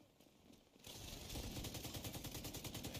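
Distant automatic gunfire in the video game The Division 2 rattles in rapid, steady bursts after a brief quiet start, faint and far off with no talk over it.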